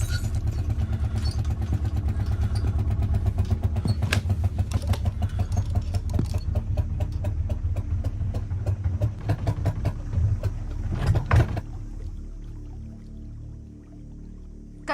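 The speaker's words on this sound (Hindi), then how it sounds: "इंजन खराब हो गया।" A boat engine on Sundarbans waters chugs with a rapid, steady rhythmic knocking, close and loud, then cuts out abruptly near the end, leaving faint ambient quiet.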